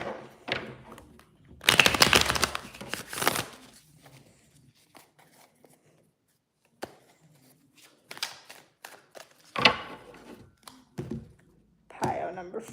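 Tarot cards are shuffled close up in irregular bursts of riffling and tapping, with several loud flurries separated by quiet pauses.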